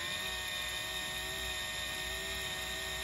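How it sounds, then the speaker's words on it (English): A drill spins a small piece of copper wire to clean gunk out of a part on a 1995 Yamaha Virago 250 that sat for ten years. It gives a steady, faint, high whine throughout with no talking. "Put it in a drill."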